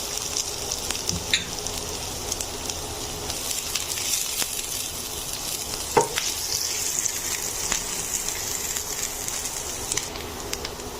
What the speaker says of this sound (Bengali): এখন আমি কাঁচামরিচ এবং পেঁয়াজ একটু ব্রাউন করে ভেজে নেবো